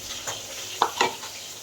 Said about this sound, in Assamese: মাংস ফ্ৰাই কৰিম আজি